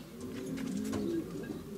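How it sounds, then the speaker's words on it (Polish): A racing pigeon coos softly in a low, rolling murmur, fairly quiet against faint background noise. "Jest następny gołąb i stado jakieś leci."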